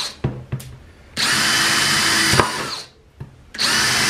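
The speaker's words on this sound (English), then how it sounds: "We're going to drill holes all the way around the outside of it." Power drill boring holes through the side of a plastic 5-gallon bucket: a few short taps, then a steady whining run, a pause, and another burst starting, loud and close.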